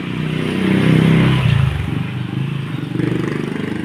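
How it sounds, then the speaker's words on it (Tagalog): Motorcycles and traffic passing along a residential street in Greenheights Subdivision, Marikina, a nearby engine hum swelling and fading with a second pass after, heard from the roadside on foot. "Marami ding motor na dumadaan dito."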